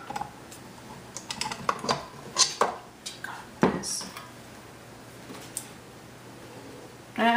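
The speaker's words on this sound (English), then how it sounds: "I'm just gonna scrape the spoon." Spoon scraping around a bowl of banana bread batter, a run of quick clicky scrapes and taps close by, then a pause and a final clatter at the end, with no talking.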